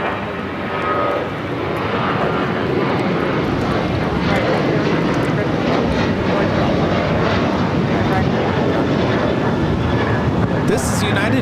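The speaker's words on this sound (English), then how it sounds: "2729 taking off to Denver on the 737-900ER" A United Airlines Boeing 737-900ER bound for Denver roars down the runway at LAX, its jet engines a loud, sustained, broadband rumble for the whole stretch, with people talking faintly underneath.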